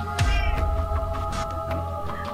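A cat meows in the Minecraft video game during survival play: a short, sharp meow near the start, then scattered clicks and game noises over a steady background hum.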